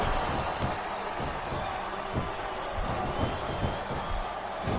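A dense, steady roar of crowd cheering and clapping fills an arena in the SmackDown vs Raw 2007 wrestling game, with low voices murmuring underneath.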